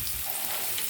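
Sardines frying in hot oil in a home kitchen pan give a steady, close broadband sizzle and crackle that runs unbroken for under a second, with no voices over it.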